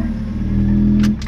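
Fiat Uno engine idling with a holed exhaust, a steady low rumbling drone heard up close and loud, with a couple of brief faint higher noises near the end.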